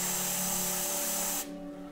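An airbrush sprays paint onto a Warhammer 40,000 Space Wolves miniature, a steady close hiss that cuts off abruptly near the end, leaving a faint hum.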